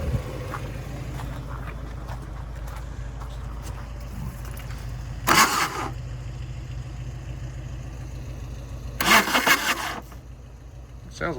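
VW diesel engine swapped into a Suzuki Samurai cranking over in two short bursts of starter grinding, separated by a few seconds of low idle-like rumble and background noise.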